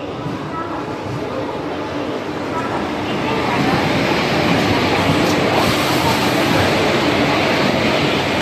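Dharmavaram Express train pulling in at a station platform, a steady broadband rumble and rush that swells louder midway and holds, with faint crowd murmur.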